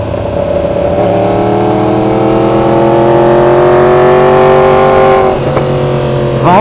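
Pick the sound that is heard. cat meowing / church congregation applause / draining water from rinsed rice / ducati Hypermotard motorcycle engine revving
ducati Hypermotard motorcycle engine revving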